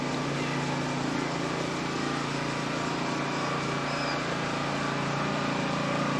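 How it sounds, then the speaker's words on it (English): Water pump running steadily in botanic gardens, a constant broadband motor drone with a low hum that fills the whole stretch without change. "I'm sorry about that pump noise."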